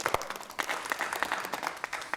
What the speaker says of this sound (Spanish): Un aplauso para Samuel.